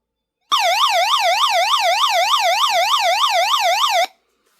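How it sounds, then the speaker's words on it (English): A loud electronic siren from a toy wails in a fast, even up-and-down warble for about three and a half seconds, then cuts off abruptly. "you got a flashy light and a siren"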